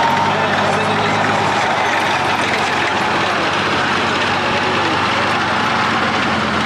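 A German-built Leopard 2A4 tank drives past a grandstand at a military tank-day display, its loud, steady engine roar and track rumble filling the whole stretch, with voices faintly audible underneath.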